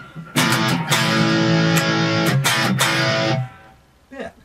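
An electric guitar played through a cheap Blues pickup rings out in several bright, slightly distorted strummed chords that sustain for a few seconds, then cut off, followed by one short, quieter note.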